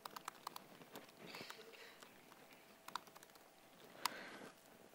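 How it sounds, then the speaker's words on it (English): Quick bursts of typing on a computer keyboard, light close clicks and taps with a few sharper keystrokes, faint and without talking. "Never type live."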